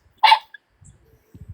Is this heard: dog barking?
yes